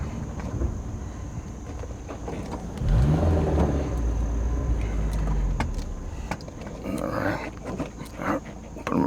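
An imported right-hand-drive JDM Honda S2000 idles and then rises into a louder engine rumble about three seconds in as it turns around, with engine sound steady and close throughout, no talking.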